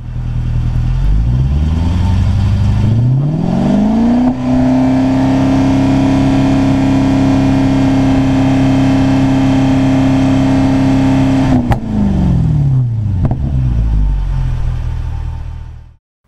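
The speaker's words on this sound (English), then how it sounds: "This is the actual audio from my Goodwood noise test with the Spires exhaust." A Jaguar XFR fitted with a Spires exhaust revs loud and close at a Goodwood track day noise test, climbing to a long sustained high-rev hold before dropping back to idle.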